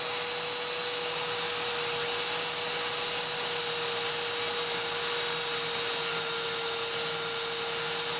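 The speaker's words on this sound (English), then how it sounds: "I'm going to go ahead and use my Dremel again." Dremel rotary tool running steadily for about eight seconds while cleaning the drive tire and wheels of an O scale model locomotive, a continuous close high-pitched whine with a fixed motor tone and no talk.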